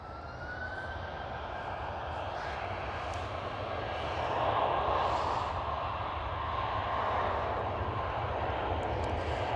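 A British Airways Airbus A319 passes at Schiphol, its engines a broad, steady roar heard from a distance that swells slightly midway and holds.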